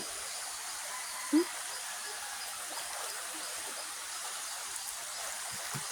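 Steady, soft rushing of natural spring water flowing, a faint continuous wash with one brief low knock partway through.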